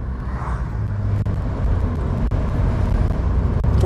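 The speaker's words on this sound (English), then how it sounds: "there's another guy that is driving really fast." A car drives fast along a street, making a continuous broadband road roar that grows slightly louder as it approaches. A few faint clicks sit over the noise.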